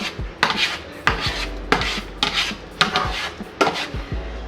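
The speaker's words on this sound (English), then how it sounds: "you're kind of just folding the eggs over." A utensil scrapes and folds eggs in a pan over medium heat, about seven rhythmic rasping strokes with clear taps at each turn, close and alone.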